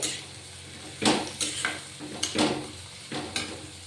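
Cauliflower curry with onion and spice masala cooking in a pan, with a steady low sizzle broken by several sharp clinks and scrapes of a spoon against the pan, close and fairly quiet, no talking.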